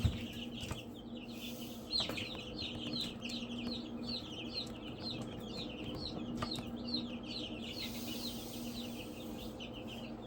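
Chickens cluck in a steady run of short repeated calls, moderately close, over a low constant hum and light background noise, with no voices.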